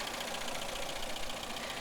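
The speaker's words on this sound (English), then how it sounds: "It sounds a little bit ticky, but I don't think that that's an issue with the engine." An 8-valve car engine idles with a steady, fast ticking running through a continuous mid-range hum, close and fairly loud with no talk.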